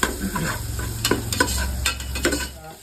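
Sliced onions stirred in a hot pan for mutton pulao, sizzling steadily with several sharp scraping clicks of the spoon against the pan, close and fairly loud, no voices.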